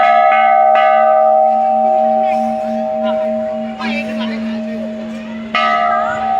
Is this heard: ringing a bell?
yes